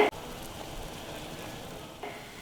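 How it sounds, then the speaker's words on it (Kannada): Steady bubbling and crackling of water boiling in a pot before rice is added for spinach pulao, low and continuous, with a brief louder clatter at the start. "ನೋಡಿ, ಈಗ ನೀರು ಕುದೀತಾ ಇದೆ."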